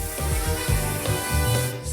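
Makeup is sprayed onto a face in a steady, close hiss that lasts about two seconds, with a slightly uneven, rubbing texture.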